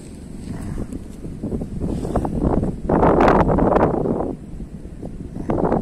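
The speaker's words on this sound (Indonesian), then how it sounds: "Belakangan ini angin kencang terus nih." Strong wind roars and buffets the microphone at a river mouth, swelling louder in gusts and then easing, with no talking.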